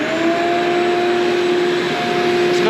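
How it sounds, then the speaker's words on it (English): A shop vacuum runs steadily to catch dust during a boat transom replacement, a loud, close, continuous whine with a constant droning tone and no talking. "Maybe my cameraman can turn our vacuum on."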